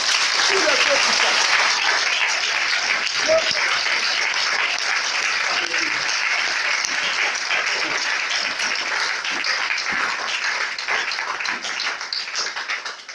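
A church congregation applauding to acclaim God, dense sustained clapping that fills the room throughout, with voices mixed into the applause.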